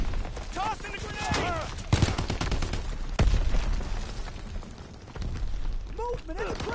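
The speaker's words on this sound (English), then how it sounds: "Tossing the grenade!" Rapid bursts of video-game gunfire and heavy booming blasts from a thrown grenade in a trench battle, loud and near, with shouted voices over the combat.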